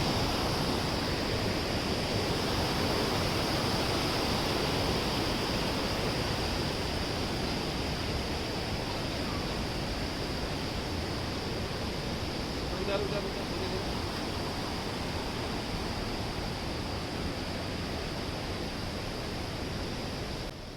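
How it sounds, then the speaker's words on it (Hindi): Steady roar of a waterfall near the river confluence at Devprayag, a constant broadband rush at close range with no break, and no voices heard. "इस झरने का आवाज़ सुन के आपको कैसा लगा?"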